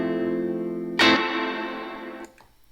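A guitar note rings through a multi-effects pedal switched to a plain reverb setting, a sustained tone that swells with a sharp attack and then decays into a smooth reverberant tail before fading out.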